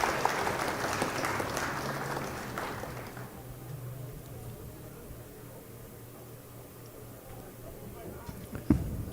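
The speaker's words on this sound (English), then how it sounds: "We got to give Champ a little bit of an applause for that one." Audience applause at a pool challenge match, a short burst of clapping over the first few seconds that fades into quiet room noise, with a faint sharp knock near the end.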